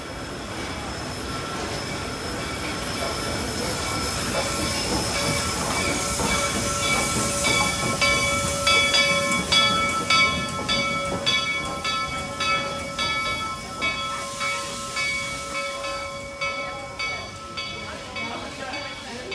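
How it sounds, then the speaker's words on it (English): Steam locomotive #2102 passes on a photo run, its hiss and heavy rumble swelling as it nears, then giving way to a rhythmic, loud chuffing exhaust that slowly recedes, with people talking faintly nearby. "steam engine"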